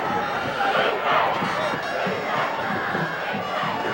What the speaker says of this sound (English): there's electricity in this crowd right now